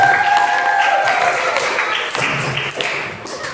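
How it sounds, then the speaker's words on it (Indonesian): Students in a classroom give a short round of applause after group singing performances, a steady wash of hand claps that holds for a few seconds with no voices over it. "tepuk tangan untuk kita semua"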